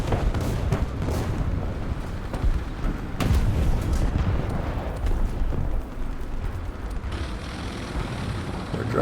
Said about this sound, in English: They're dropping more arty